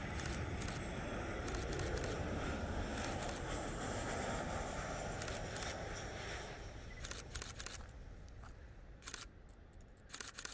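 A Fiji Airlines 800-variant airliner at Adelaide Airport gives a broad, distant roar of jet engine noise, heavy with wind rumble. It fades over the seconds as camera shutter clicks sound repeatedly nearby.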